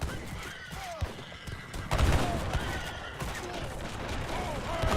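Musket volleys and cannon fire from a real-time strategy battle, with horse artillery on the field, crackling in dense overlapping bursts and a louder thumping cluster partway through, under steady game noise.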